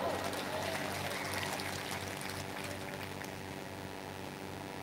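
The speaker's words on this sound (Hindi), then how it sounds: "तालियां बजाओ" Audience at a mushaira poetry gathering applauding, a dense, steady wash of clapping heard from within the crowd, fairly loud and continuous, with no voices standing out.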